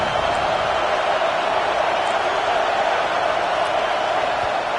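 Steady, loud roar of a football stadium crowd making noise on third down, a dense continuous wash of voices with no breaks, filling the whole stretch.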